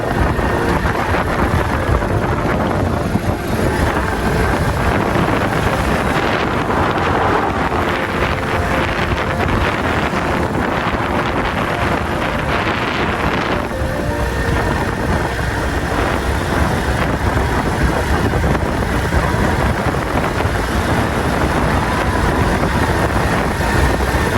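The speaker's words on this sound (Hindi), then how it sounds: "हवा बहुत तेज़ घुली खड़ी है, बहुत तेज़ हवा है" Strong wind roars continuously at Derawar Fort, a centuries-old desert fort, buffeting the microphone with loud, steady gusts and rumbling low noise throughout, with no talking.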